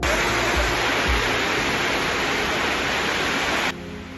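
Heavy rain falls on and leaks through a damaged roof at a scavengers' dwelling in Kingtom, a loud, steady, dense rushing hiss that drops off sharply just before the end.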